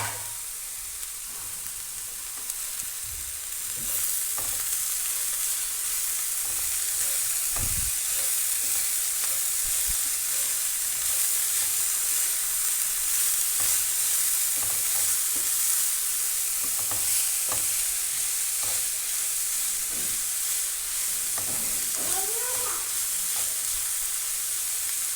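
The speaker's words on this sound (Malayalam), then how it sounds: "ഇതൊന്ന് മൂടി തുറന്നിട്ട് ഒന്ന് നന്നായി ഒന്ന് ഇളക്കി കൊടുക്കുക" Banana flower and green gram thoran sizzles steadily in a pan, with scraping stirs and occasional clinks of a spoon against the pan over a constant frying hiss, close up and with no voices.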